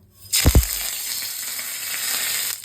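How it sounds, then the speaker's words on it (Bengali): White mustard seeds and curry leaves hit hot oil for an upma tempering. A couple of sharp thuds open a loud, steady, close sizzle that crackles evenly until it stops abruptly. "এবার তেলে দেবো ফোড়ন, সর্ষে।"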